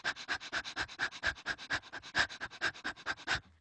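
A person imitates a panting dog with quick, even breaths, about twenty rhythmic huffs in a steady pulse during a voice-liberation breathing exercise, close and fairly quiet with no talking.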